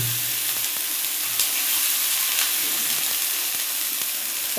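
Onions and green chilies fry in hot oil with a steady, close sizzling hiss that continues evenly throughout, with faint occasional clicks and no talking.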